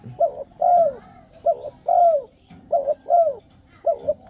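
Spotted dove (nok khao yai) cooing, a tame older wild-caught-style bird: repeated soft, low hooting coos in paired phrases, close and clear, with faint background noise and no talk.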